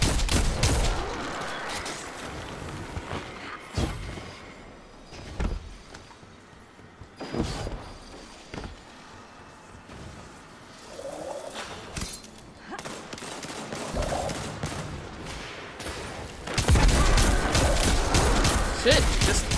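Hand cannon fire in the shooter Destiny 2, sharp irregular gunshot cracks scattered through a busy game soundscape, with a denser burst of shots near the end.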